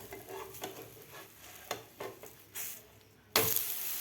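A thin lacy dhirde pancake made with mango pulp roasts quietly in a pan, with faint sizzling and a few soft scrapes as it is flipped. A louder rushing burst comes at the end.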